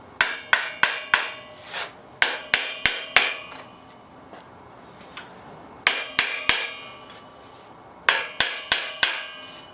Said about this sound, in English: With a copper hammer so as not to damage it.